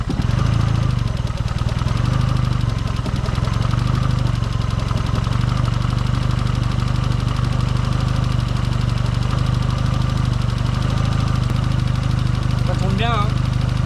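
Small engine running at a steady idle, a loud, close, continuous rumbling drone that stays even throughout with no clear break.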